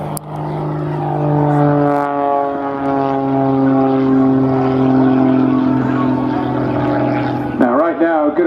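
A Pitts S-2S aerobatic biplane flies at an air display at Scampton. Its steady, loud propeller-engine drone holds throughout, then shifts pitch sharply near the end as it manoeuvres.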